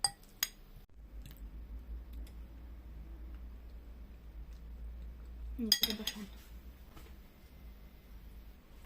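A spoon stirs sandwich spread in a bowl during breakfast making. Bright clinks sound at the start and in a short cluster midway, with quiet handling noise between them.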